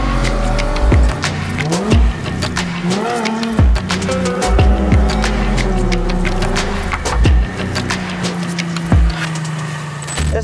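A Honda Integra DC1 car engine revs in rising and falling sweeps, loud and close, with sharp intermittent clanks and a brief squeal-like tone, no voices.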